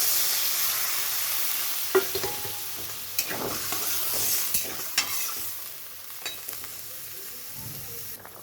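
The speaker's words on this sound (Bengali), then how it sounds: "তো এখানে আমি জল দিয়ে দিচ্ছি পরিমাণ মতন।" Water goes into a pan of frying Gobindobhog rice with potato and cauliflower, setting off a hissing sizzle and a few sharp stirring clinks that gradually quiet down, close and alone.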